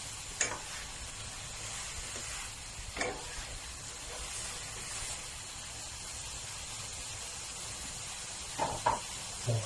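Tofu stir-fried with spicy sauce and a dash of soy sauce in a hot pan for a vegetarian dish gives a soft, steady sizzle broken by occasional scraping spatula strokes, close and without talk.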